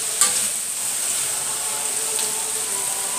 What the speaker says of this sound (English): then we will fry the onion